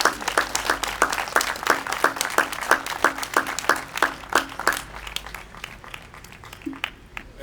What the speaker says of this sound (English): a big round of applause for the people who provide services in the area of domestic violence